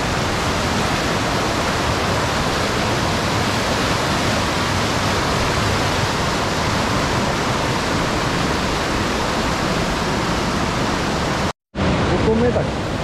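A waterfall in heavy flood after rain roars loud and steady with dense, broadband rushing water, close by, cut by a brief dropout near the end.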